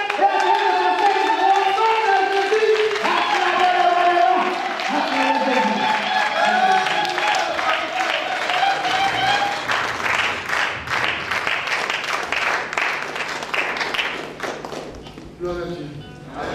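A church congregation at an evangelical service applauding, dense rhythmic clapping from many hands that fills the room alongside music and voices, thinning out toward the end.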